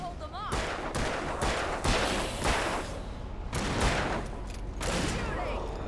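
Enemies shooting guns in Alan Wake, loud rapid gunfire bursts and volleys repeating throughout, close and heavy, with a voice calling out over the shots.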